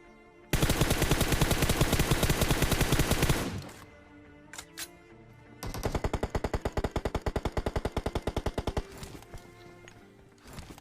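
Heavy automatic-sounding gunfire from an AWM sniper rifle in PUBG: a loud sustained burst of rapid shots, a few isolated cracks, then a second long rapid volley, no talking.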